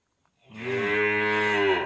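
A cow moos once on a farm, a single long, loud, close-up lowing call that swells in and holds for over a second.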